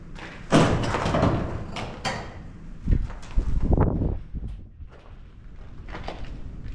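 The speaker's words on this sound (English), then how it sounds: "Just found this big metal door. It's the only one that's still closed. Let's see if I can open it." Heavy thuds and a scraping metallic clank as a large metal door is forced open, echoing in an empty space of an abandoned structure, with several dull knocks following.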